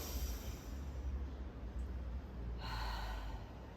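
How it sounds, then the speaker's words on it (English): A single slow, deep breath drawn in through the nose and then released, soft and close, with a quiet airy exhale near the end. "So in through the nose all the way to the belly button and out."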